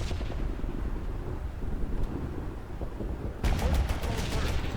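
Gunfire in the military video game Joint Task Force, a steady dense crackle of shots that grows louder and sharper near the end, heard alone without talk.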